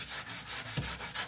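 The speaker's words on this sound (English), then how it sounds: "I'm just gonna manually start sanding this." Wooden furniture is sanded by hand in quick back-and-forth strokes, a close, raspy rubbing that repeats in a steady rhythm with no speech.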